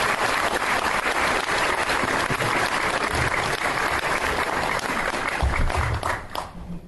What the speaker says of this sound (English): one more round of applause for our newest Hall of Famer, Mr. Richard Barker.